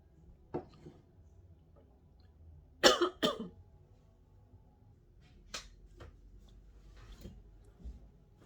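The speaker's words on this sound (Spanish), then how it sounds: "me dio un poco de tos y tuve que detener el video un momentito" A couple of sharp coughs in a quiet room, followed by a few softer clicks and a faint throat-clearing sound.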